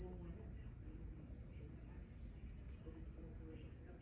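A single steady high-pitched test tone plays through a faulty speaker being checked with an amplifier, continuous and clear over a low background rumble.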